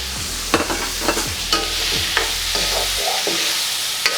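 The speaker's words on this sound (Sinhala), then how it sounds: "මේක හොඳින් මේ විදිහට කලවම් කරගන්න" Chicken gizzard and chopped chillies frying in a pan, stirred with a utensil: a steady sizzle runs throughout while sharp scraping strokes land roughly every half second, close up and with no voices.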